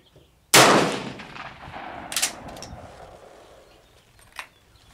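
A single loud rifle shot with Berdan-primed ammunition cracks at an outdoor range, its echo decaying over a few seconds, followed by fainter distant shots.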